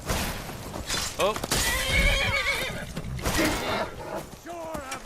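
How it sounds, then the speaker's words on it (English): A horse in Skyrim neighs loudly several times with hoofbeats clip-clopping nearby, while a person talks over the noise. "A horse, get out of the way."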